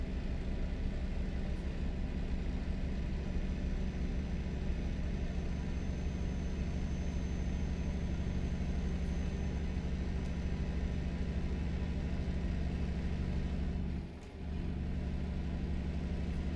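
Scania V8 truck engine in Euro Truck Simulator 2, a steady low rumbling drone held at an even pace, with a brief dip near the end, moderately quiet and alone without talk.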